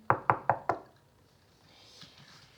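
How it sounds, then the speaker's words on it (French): Four evenly spaced, firm raps by police on a caravan door, close and distinct, followed by quiet room tone with a faint shuffle. "Les policiers frappent à la porte de sa caravane."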